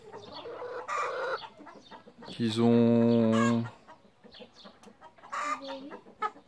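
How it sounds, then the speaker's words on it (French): Young broiler chickens around nine weeks old cluck and squawk close by, with one loud drawn-out call in the middle and shorter clucks around it, while someone speaks briefly in French. "Et puis là, j'ai des petits poulets de chair."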